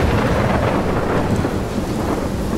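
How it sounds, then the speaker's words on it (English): A thunderstorm in the video game Life Is Strange gives a loud, dense wash of rain with a low rumble of thunder and wind, steady for the whole stretch and without talk. "I've never seen a storm like this in."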